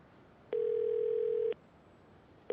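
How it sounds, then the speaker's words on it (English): A telephone ringback tone in the Yakuza 0 video game sounds as a clean, steady electronic tone lasting about a second, then a pause, then the next tone starting, close and alone. "Sometimes you gotta make a phone call you just don't want to make."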